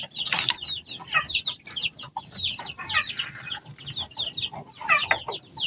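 Black and white grizzle breeder rooster clucking and calling in quick, repeated bursts, close by, with a few louder squawks and faint background rustle.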